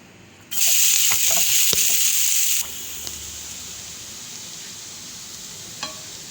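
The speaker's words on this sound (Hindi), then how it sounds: "ये गर्म हो जाएगा तो इसमें ये प्याज डाल दूँगी।" Onions go into hot oil in a pan with a loud, sudden sizzle that hisses strongly for about two seconds, then settles into a steady, quieter frying crackle.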